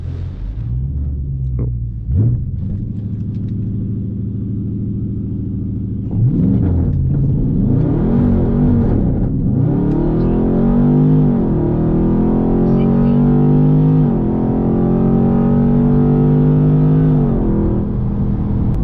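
Dodge Charger 392 Scat Pack idling with a deep rumble, then launching hard on launch control, its V8 revving and climbing through several gear shifts, loud and close throughout with no talk.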